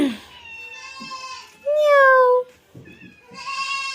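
A cat on a goat farm in Kenya lets out several loud, close meows in an uneven series, one long drawn-out cry in the middle, with quieter sounds from around the farmyard between them.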